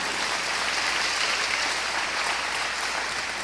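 Congregation applauding inside a church service, a steady dense wash of many hands clapping at even volume throughout, with no talk over it.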